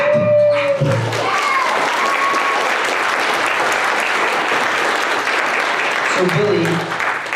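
Audience at a Comic & Toy Con 2018 celebrity panel breaks into loud sustained applause that swells after a brief spoken line and fades toward the end, where talking resumes.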